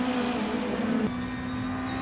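Gr2 race cars in the video game Gran Turismo Sport make a brief, steady engine whine at a sustained pitch that drops suddenly and settles into a lower tone, with no talking.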